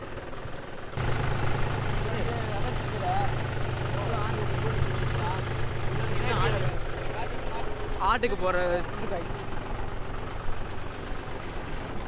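A farm tractor engine runs steadily during a ride, a constant low rumble that carries through the whole clip beneath ongoing excited talk from several people.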